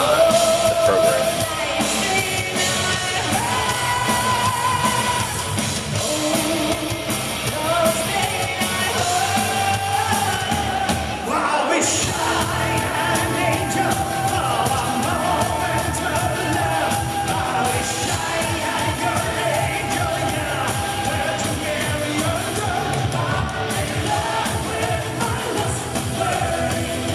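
A dense crowd at a St. Patrick's Day concert yells and cheers continuously over loud music, a constant roar of voices with a brief dip midway.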